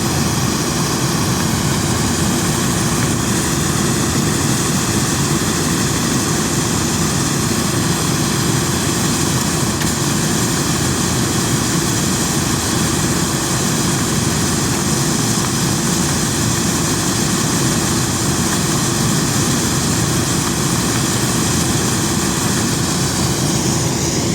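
Niva SK-5 combine harvester threshing corn on a cold December day, its engine droning as a loud, steady, continuous roar with no pauses from start to finish and no voices.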